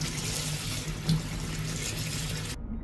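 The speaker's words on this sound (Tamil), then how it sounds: "சரி தண்ணியில் கழுவுவோம்" Tap water runs steadily into a kitchen sink for washing at home, a close continuous gush that cuts off abruptly near the end.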